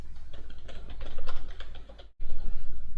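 Fingers type a description into Google Tag Manager on a computer keyboard, producing a steady run of close, crisp keystrokes with a short pause near the end before typing resumes.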